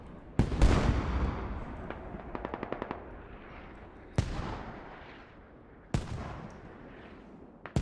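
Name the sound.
mortar fire in the video game Squad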